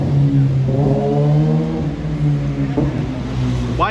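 A motorcycle engine revs on a street in Turkey, a loud, sustained mid-pitched drone whose tone rises and falls over about four seconds, with traffic noise around it.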